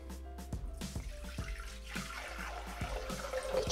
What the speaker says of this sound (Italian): senza lavare il boccale, andiamo a versare il resto dell'acqua